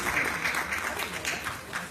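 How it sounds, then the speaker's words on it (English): An audience at an expert panel event claps in a warm, steady round of applause that fills the room, with a voice speaking over it. "Brother Leader Mandaka, so we give a warm round of applause"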